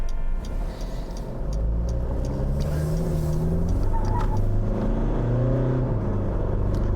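2020 Mitsubishi Pajero Sport accelerating onto a highway, heard from inside the cabin as a steady engine drone rising in pitch through the gears over continuous road rumble, with no talking.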